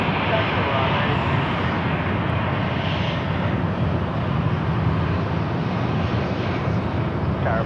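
An aircraft reverses into a taxiway at Charlotte airport with a loud, unbroken jet engine roar throughout, and talk is faintly present beneath it.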